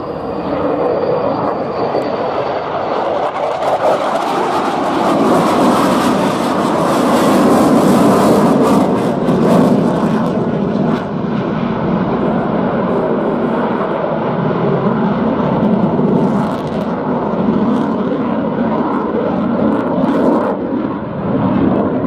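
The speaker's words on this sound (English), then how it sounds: "the second jet accelerating and about to come past the other one in the fast-slow overtake" Two jets at an air day, one accelerating to overtake the other in a fast-slow pass, produce a loud sustained roar that swells and rumbles steadily throughout, broad and close with no voices.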